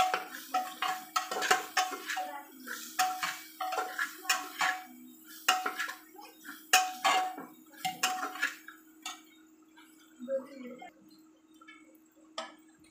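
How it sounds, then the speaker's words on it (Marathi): Biryani masala being stirred into a cooking pot for chicken biryani, with a spoon scraping and clinking against the metal in repeated close strokes that thin out toward the end. "हा बिर्याणी मसाला मी यात टाकते व याला चांगलं हलवून घेते"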